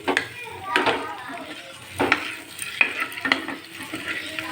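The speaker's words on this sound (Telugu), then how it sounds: "ఇలా ఆయిల్లో మనం ఎగ్స్ని వేయించుకోవాలి" Eggs frying in oil with a little salt and chili, a steady crackling sizzle broken by several sharp clinks of a utensil stirring against the pan, close and moderately loud.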